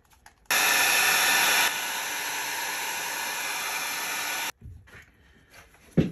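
A hair dryer dries a beginner's watercolor painting, starting loud and close, dropping to a lower setting, then cutting off abruptly, followed by faint handling noises and a soft knock.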